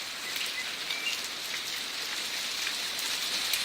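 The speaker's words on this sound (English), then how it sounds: "It's hailing and raining at the same time." Hail and rain fall together in a dense, steady patter on outdoor surfaces, a continuous hiss with small scattered ticks and no voices.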